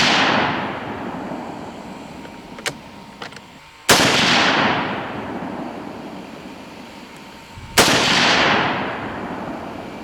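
Two sharp, loud 30-06 rifle shots about four seconds apart, fired with 150-grain Hornady SST and 125-grain Speer TNT loads at a target range, each a sudden crack trailing off into a long outdoor echo and decay, with faint clicks in between.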